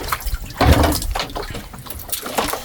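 Sea water moves and sloshes near a boat at sea in irregular close splashing surges, with one louder swell early on.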